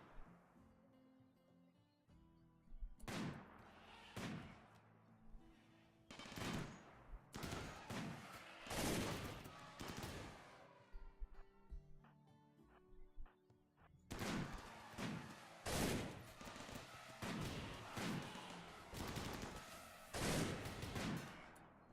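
Gunfire in the video game RimWorld, including a shotgun, comes as a series of punchy, booming shots in irregular bursts, some quick and clustered, others spaced out, fairly loud and close.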